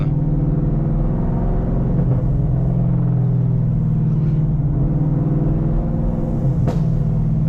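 Stage 3 cammed Camaro ZL1 with a manual gearbox and a slightly slipping clutch, heard while driving: a loud, steady, lumpy low engine drone with harmonic rumble that swells gently with throttle throughout.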